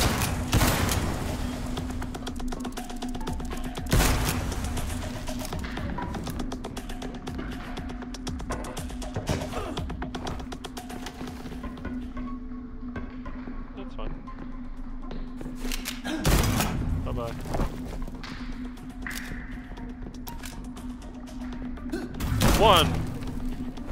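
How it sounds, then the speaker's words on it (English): Explosions in the video game Liberated: several dull, heavy booms and thuds burst out at irregular intervals over a steady game hum, with sparse clicks and taps between them. "Surely one explosion should affect another."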